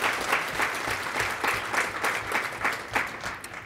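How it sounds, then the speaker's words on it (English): A conference audience applauds its sponsors, a steady wash of clapping from a crowd in a hall with a pulsing rhythm, moderately loud and continuous. "So big round of applause for them"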